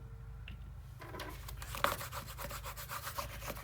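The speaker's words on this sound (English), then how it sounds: "And then you're going to burnish it really good." A paper panel is burnished by hand, producing soft, close rubbing and scraping strokes in a loose rhythm, faint and alone.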